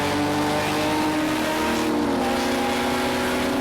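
A Porsche race car in Project Cars 2, racing at Fuji, accelerates hard down the straight with a loud, sustained engine roar whose pitch climbs steadily through the gears, close and unbroken.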